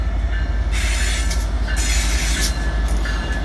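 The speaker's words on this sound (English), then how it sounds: "Here comes Amtrak 76 departing Charlotte, North Carolina with the Talgo unit from Portland, Oregon." An Amtrak Cascades Talgo train departs 36th Street station in Charlotte, North Carolina, passing loud and close with a rolling rumble, clattering wheels and bursts of high metallic squeal.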